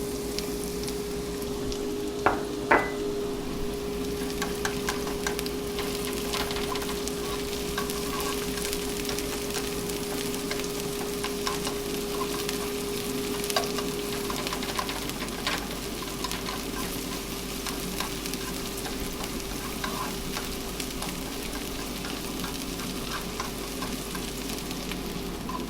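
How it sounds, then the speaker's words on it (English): Shallots sauté in oil in a pan, giving a continuous close sizzle with a steady faint hum underneath and occasional light clicks of stirring, with no voices. "I'm going to cook the shallots first until they're lightly browned."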